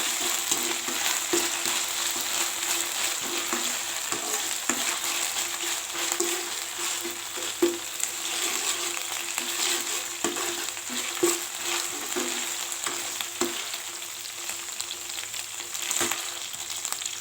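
Masala sautéing in a pan for bitter gourd curry, giving a steady, close sizzle with occasional scrapes and clinks of stirring throughout, and no talk.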